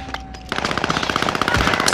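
An automatic gun in a video game fires a rapid, evenly spaced burst of loud shots that starts abruptly and continues without a break.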